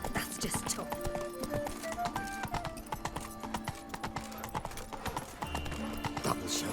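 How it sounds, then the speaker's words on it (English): Roach, the horse in The Witcher 3 video game, trotting with a steady clip-clop of hooves, close and rhythmic, while game characters talk over the hoofbeats and background music plays. "Whoa there, Roach"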